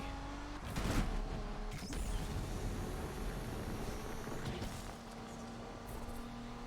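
A car engine drones in a racing video game, a continuous, rough mechanical hum with shifting pitch and bursts of noise. It plays at a fairly quiet level with no voices over it.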